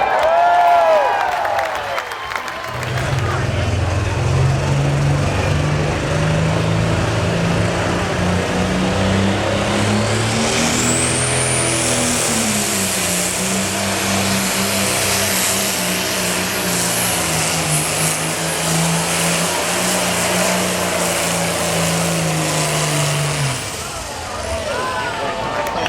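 A super stock tractor at a county fair tractor pull roars loud and close for about twenty seconds, its engine note holding steady and then shifting before cutting off, with crowd noise around it.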